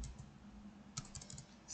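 C++ code is typed on a computer keyboard in a brief, faint flurry of soft key clicks with one slightly sharper tap near the middle, and no one speaks.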